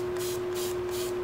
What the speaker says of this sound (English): we're gonna go one more time with the Starburst spray.